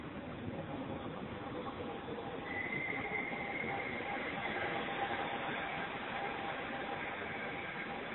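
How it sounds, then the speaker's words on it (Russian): A Paris metro train pulls into a station, its rumbling wheels and a rising squeal of braking steel filling the platform at moderate distance, with no voices. "Наконец прибывает наш поезд метро."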